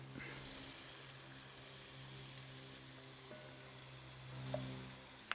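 Crab and shrimp sizzle steadily in a pan, a continuous soft hiss with light crackles throughout, close and even with no talk.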